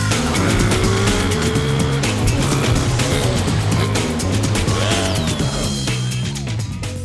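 Car driving sound effect: a loud, continuous engine roar with rising and falling tones, tire squeals and skidding across the whole stretch, in a racing style.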